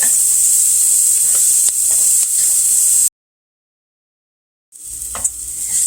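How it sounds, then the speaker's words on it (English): Chopped onions fry in a pot over medium-low heat for a fish chowder, a steady bright sizzle with some stirring that drops out briefly to silence and then resumes. "got it down on medium-low, and I'm going to add my onions"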